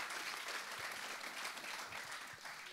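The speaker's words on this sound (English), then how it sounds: "you get a very big round of applause" An audience gives a round of applause, a soft, dense patter of many hands clapping at a distance that fades slightly toward the end.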